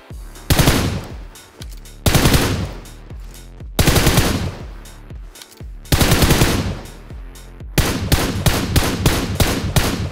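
Repeated bursts of automatic gunfire from a player shooting in PUBG Mobile, loud and close, coming in long sustained volleys with short gaps, then a quicker string of separate shots at the end.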